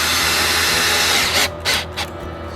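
A power drill drives a 2-inch screw into a wooden support for a rollback chicken laying box. It makes a steady, close grinding drone that breaks into a few short, sharp bursts as the screw sinks home.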